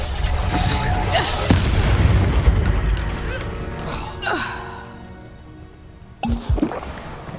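A Reducto blasting spell exploding in the Hogwarts Legacy video game: a loud burst with crackling debris and rumble. A sharp impact and a short scatter of smaller pieces follow near the end.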